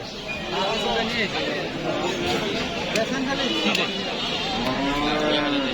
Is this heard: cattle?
yes